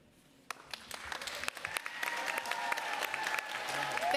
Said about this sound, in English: I'm going to ask that we not clap in between each person.